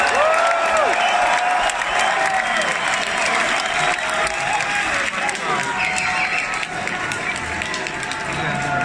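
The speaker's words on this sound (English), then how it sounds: "If you enjoyed all the solo battlers, one more round of applause." Sustained applause from a large audience at a beatbox battle championship for the solo battlers, loud and continuous throughout, with cheering and a voice talking over the clapping.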